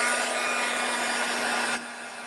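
A hair dryer blows steadily while drying wet dark chocolate-colored paint, a close, continuous whooshing hum with a fixed tone that drops in level near the end.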